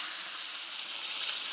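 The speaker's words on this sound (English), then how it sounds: "With a crab that's sizzling up, that oil's done gotten hot enough now." Soft shell blue crab frying in hot oil gives a steady, dense sizzle of fine crackling hiss that holds even and moderately loud throughout, with no voices.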